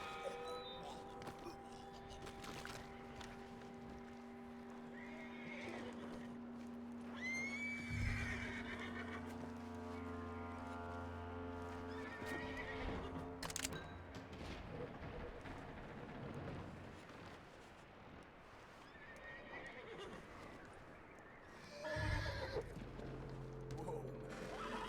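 A horse in Red Dead Redemption 2 neighs and whinnies repeatedly over a steady game soundtrack drone, with clip-clop hooves and mechanical clicks around it, loud and close.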